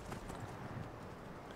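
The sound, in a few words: horse hooves clip-clopping in video game Skyrim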